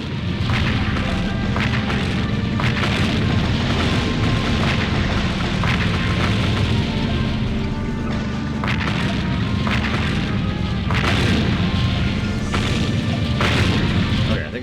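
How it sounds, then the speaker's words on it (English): Repeated booming blasts from missile launchers in the game Seek & Destroy thud over a continuous low rumble, arriving every couple of seconds, with occasional speech mixed in. "I think it's all the missile launchers"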